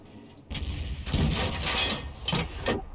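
Heavy tank cannon fire in World of Tanks, a GW Panther self-propelled gun: a loud booming blast after a quieter opening, then two further sharp reports trailing off, with no talk.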